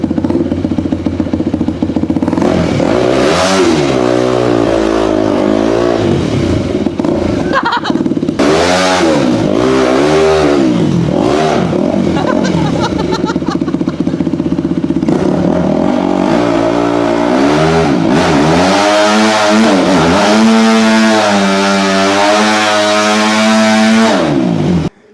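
A rebuilt dirt bike engine revs hard and loud up close, climbing and dropping repeatedly as it shifts through the gears. A brief quieter dip between runs is followed by a sustained high-revving pass at the end.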